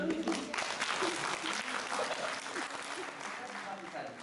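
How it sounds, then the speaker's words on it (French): An audience in a theatre claps for a volunteer, a moderate patter of applause that thins out over a few seconds while a voice talks over it. "On applaudit"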